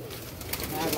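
Domestic pigeons, young birds in a keeper's loft, coo softly in short repeated calls that sit close by, with light background noise and a voice talking over them.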